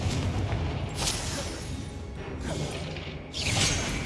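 Confringo fire spell blasts in Hogwarts Legacy, two whooshing bursts with booming tails about two seconds apart over a steady low game rumble.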